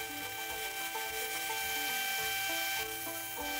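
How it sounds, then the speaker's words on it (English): A 100 grit belt sander grinds knife handle scales, a steady close whir and abrasive hiss with a persistent motor hum and no voices. "Now it's time to go ahead and shape the front of the scales where they're going to meet the ricasso, and I'm using a 100 grit belt to do this."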